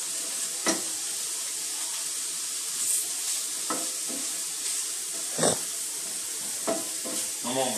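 Mushrooms frying in a pan, a soft continuous sizzle with occasional brief scrapes and taps of stirring, fairly quiet and close.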